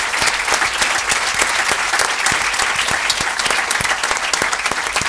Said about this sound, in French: On applaudit le Théâtre Le République et toutes ces équipes qui nous accueillent ce soir.